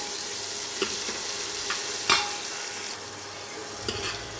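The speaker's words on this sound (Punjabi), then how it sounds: "ਇਹਨੂੰ ਚੰਗੀ ਤਰ੍ਹਾਂ ਮਸਾਲੇ ਨੂੰ ਭੁੰਨ ਲਾਂਗੇ ਤੜਕੇ ਨੂੰ ਆਪਾਂ ਭੁੰਨ ਲਿਆ ਚੰਗੀ ਤਰ੍ਹਾਂ" Ginger-tomato masala with onion and garlic roasting in a pan, giving a steady soft sizzle broken by a few sharp scrapes and clicks of stirring, fairly quiet and without talk.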